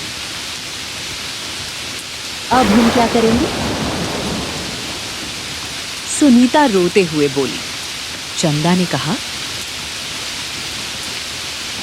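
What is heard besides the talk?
rain falling in an animated story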